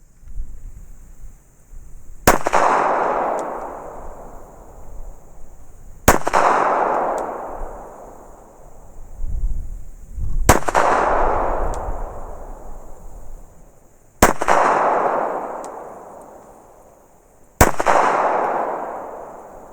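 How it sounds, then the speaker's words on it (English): A Glock 17 pistol fires 9mm Freedom Munitions 135-grain target ammunition outdoors, five sharp loud shots spaced roughly every three to four seconds, each followed by a long booming echo that rolls away. "While we're out here, let's go ahead and do some 9mm testing. We've got the Glock 17, some Freedom Munitions target ammo."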